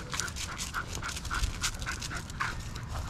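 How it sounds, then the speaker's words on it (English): Rough-coated hunting-type dogs panting close by in quick, rhythmic breaths, now and then mixed with a faint whimper, heard alone with no voices over them. "Them some rough dogs right there, man."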